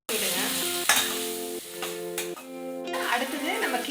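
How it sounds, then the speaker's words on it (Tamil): Onion, tomato and chilli masala sizzles in a pan for a pepper crab fry, a steady loud frying hiss broken by stirring scrapes, with background music playing over it. "நல்லா வதக்கி விடுங்க."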